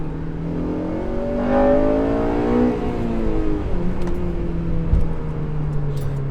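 A Honda Civic Si, eighth-generation FA5, revs hard with rising and falling harmonic engine tones climbing above 6,000 RPM, loud and close with no talking.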